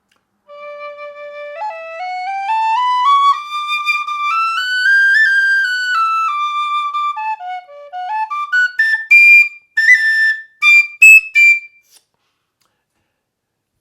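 A loud whistle blown with strong breath, sliding upward through sustained tones, dipping, then breaking into short bright chirps before stopping.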